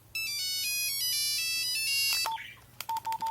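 A Nokia 5110-style phone plays the classic Nokia Tune as a basic monophonic ringtone, a bright, clear melody of beeping notes running for about two seconds, then a few short isolated electronic beeps follow.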